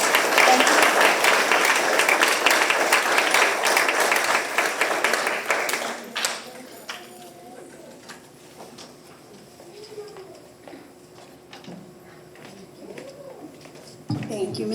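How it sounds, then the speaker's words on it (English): Audience applause at an evening school literacy night, dense and loud for about six seconds before fading into scattered claps and quiet room noise, with a brief burst near the end. "So if we can please give them a big round of applause."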